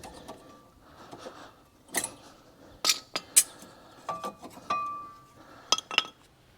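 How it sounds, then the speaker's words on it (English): Brake pads popped out of a Holden Commodore VT–VZ front brake caliper: scattered sharp metallic clinks and light taps, close and irregular, with quiet gaps between. "You can pop your brake pads out now."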